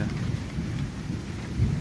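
Steady rain hisses over a deep, continuous rumble of thunder that swells slightly near the end.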